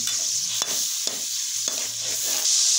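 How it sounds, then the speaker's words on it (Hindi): Garlic ginger paste sizzles steadily in hot oil while a spoon scrapes and stirs the pan several times, close and continuous. "अब हम लोग इसके अंदर लहसुन अदरक का पेस्ट ऐड करेंगे, इसको भी अच्छी तरह से भून लेंगे"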